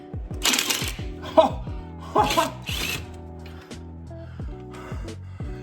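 Battery impact tool hammering at a stubborn seized bolt on a Ford F100 under rebuild, delivering several short bursts of rattling impacts with pauses between, close and fairly loud.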